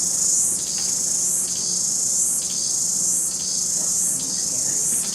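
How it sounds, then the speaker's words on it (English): Cicadas droning in a dense chorus on a hot summer day, a loud steady high buzz that pulses in slow regular swells, with no voices present. "in the middle of a hot summer day, we have the cicada chorus."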